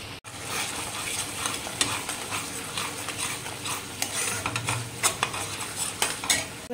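Fried spices being stirred into paneer masala in a kadai, with a busy scraping and clinking of the spoon against the pan over a low sizzle, frequent quick strokes, no voices.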